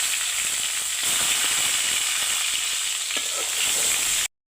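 Tomatoes hitting hot oil with tempered spices, a loud, busy sizzle with crackles and the scrape of stirring, running steadily close by before stopping abruptly at the end; no one speaks.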